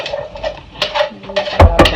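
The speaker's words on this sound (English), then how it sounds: "I'm going to take my diced onion, carrots, and garlic and put in the pan now" Diced onion, carrots and garlic tipped into a pan on the stove: a few close clunks and clatters of a utensil against the pan, with a brief hiss between them.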